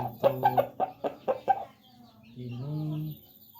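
A prized 1.5-year-old rooster clucks close by in a quick run of sharp, choppy bursts. After a brief pause comes a longer, drawn-out call.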